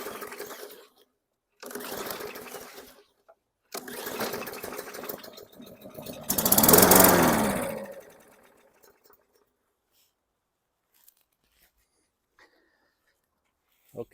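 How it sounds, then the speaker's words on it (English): A 2017 Murray 21-inch high-wheel push mower is pulled over and catches, its engine sputtering in a few short bursts and then running hard for a moment before it stalls into silence. "Start and stall on the Murray 21 inch 2017"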